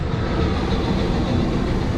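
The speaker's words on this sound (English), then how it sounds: "Big Thunder Mountain Railroad. You're too noisy!" Ride train of Big Thunder Mountain Railroad at Disney's Magic Kingdom rumbling along its track, a steady loud broadband roar with low rattling throughout, close and continuous.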